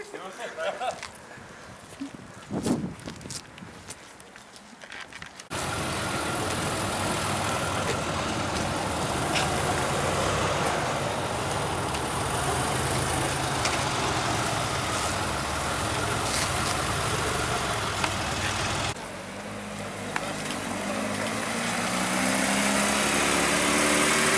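A Porsche 918 Spyder engine roars steadily at close range, loud and sustained, after a brief stretch of quieter background noise.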